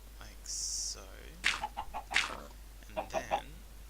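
Chicken clucking in a video game automatic chicken farm, a few short clucks and squawks in quick bursts, fairly clear over a quiet background.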